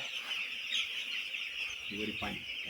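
Steady din of many chickens in an enclosed shed, a constant high chatter with a couple of louder clucks near the end.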